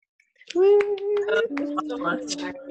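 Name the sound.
hands clapping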